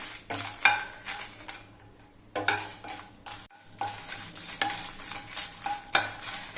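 Dried red chillies roast in a pan while a spoon stirs them, producing repeated metallic scrapes and clinks over a soft dry sizzle, in uneven bursts with brief pauses and no speech.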